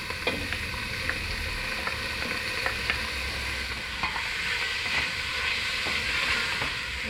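Chicken pieces sizzling and frying in a hot pan, a steady crackling hiss with occasional stirring clicks and scrapes, close and alone with no talk.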